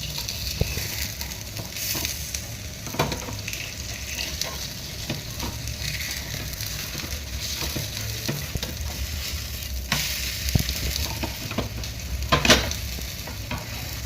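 Mixed-flour dhirde batter sizzles in oil on a pan over a low flame, a steady close frying hiss with a few faint clinks and no talking.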